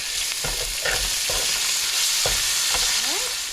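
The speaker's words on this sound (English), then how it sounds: "we saute up the ginger" Ginger and garlic sizzle in hot sesame oil in a pan during a cabbage and chicken stir fry, a steady frying hiss with occasional stirring scrapes and clinks, close and alone without talk.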